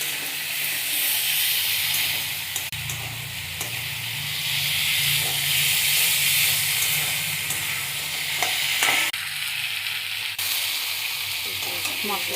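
Spice paste for a Bengali pabda fish curry sizzles and fries steadily in a hot pan, a loud continuous hiss with occasional stirring scrapes and no talking.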